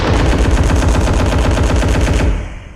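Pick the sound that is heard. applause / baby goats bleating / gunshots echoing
gunshots echoing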